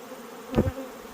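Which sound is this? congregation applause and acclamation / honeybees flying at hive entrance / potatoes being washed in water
honeybees flying at hive entrance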